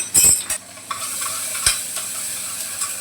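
Onion and tomato being stirred and sautéed over a low gas flame for a chicken curry, with a soft continuous sizzle, a few sharp spatula scrapes and clinks near the start and middle, no voices.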